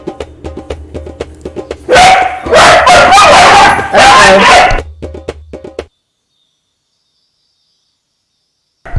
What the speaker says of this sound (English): We have 4 dogs in our house, and for some reason they all want to be under my feet at this moment.